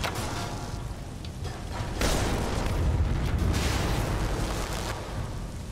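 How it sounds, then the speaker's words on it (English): Muffled booming explosions in Skyrim rumble continuously at a distance, with a few sharper bursts and whooshing swells layered over a dense low roar. "Did I hear explosions?"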